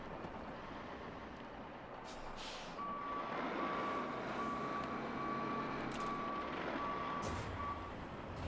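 Truck reversing alarm in the RoadCraft video game, a steady series of evenly spaced electronic beeps over a low engine rumble, clear and alone.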